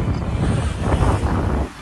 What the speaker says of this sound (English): Ooh, a little windy.